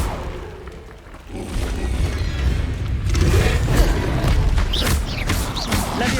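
A Confringo blasting spell in Hogwarts Legacy on PC bursts into a heavy explosive boom, followed by sustained rumbling impacts and whooshing crackles as the blast plays out, loud and close.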